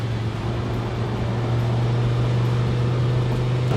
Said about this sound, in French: je profite du son de ce moteur, que ce soit le son du bloc en lui-même